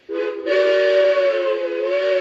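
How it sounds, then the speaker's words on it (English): A loud, sustained quilling steam locomotive whistle on a Lionel LionMaster Legacy T-1 Duplex model train, with a rich chord, rising into a fuller blast after a brief start and holding steady to the end. "this quilling whistle actually flows with the different levels that you can select"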